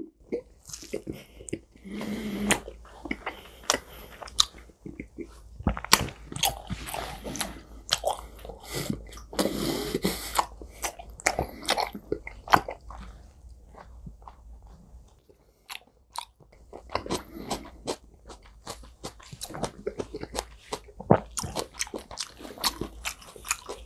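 Tuna sashimi jelly dipped in chojang, a red pepper paste, is eaten close to the mic: wet, squishy bites and crunchy chewing come in irregular bursts, with brief quiet pauses between mouthfuls.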